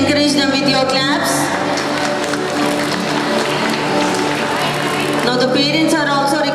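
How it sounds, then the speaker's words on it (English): Parents at a school graduation ceremony clap steadily as a crowd for several seconds, a loud, dense patter that sits between a voice speaking before and after it. "Parents, please encourage them with your claps."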